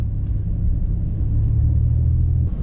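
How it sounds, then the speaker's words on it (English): A struggling car engine drones low and rough with a heavy rumble, steady and labored throughout, then eases off near the end. "my engine is freaking out again"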